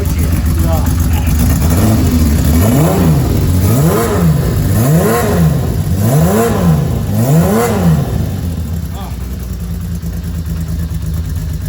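An old FZR Genesis motorcycle engine, fitted with a single-sided swingarm, is revved up and down about five times in a steady rhythm, loud and close with a throaty tone, then settles back to a rough idle.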